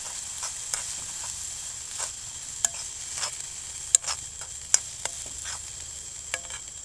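Food stirred in a pot at a forest campsite at night, soft scraping and clinking strokes at irregular intervals over a steady faint sizzle, close and quiet, with no talking.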